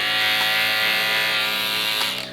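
An Andis GTX EXO cordless hair trimmer runs close up with a loud, steady high-pitched buzz and dense harmonic whine, holding even throughout before cutting off sharply at the end.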